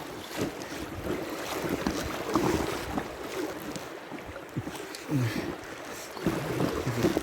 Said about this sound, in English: It's weird, these waves are coming at me at an angle.